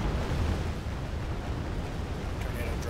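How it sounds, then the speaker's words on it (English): M24 tanks firing in a war video game, heard as a continuous dense rumble of cannon blasts and explosions, loud and steady throughout. "Hey look, my M24s are still shooting."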